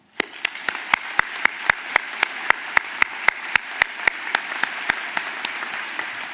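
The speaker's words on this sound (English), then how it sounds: "So let's go ahead and give all you guys a round of applause." At a 2019 Pendleton Heights High School graduation ceremony, loud, evenly spaced claps ring out in a steady rhythm over a softer bed of crowd clapping, sustained without speech.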